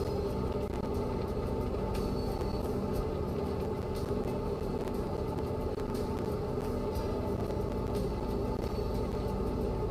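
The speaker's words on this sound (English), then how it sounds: "It's just a train on the siding." A train sitting on a siding in Train Mechanic Simulator 2017 makes a steady low mechanical rumble with faint clanks, continuous and moderately loud, with no one talking over it.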